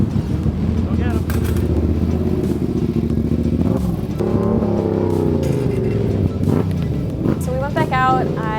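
A dirt track racer's motorcycle launches off the line at a race start at Road Atlanta, its engine droning and revving loudly among other machines, with a voice talking over the roar throughout.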